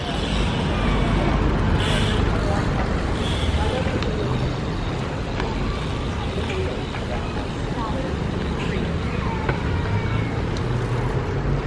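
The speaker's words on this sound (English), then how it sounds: "Cars can drive in and out." Cars driving in and out along rows near Battersea Power Station in London, a steady close wash of road traffic and engine rumble that continues without a break.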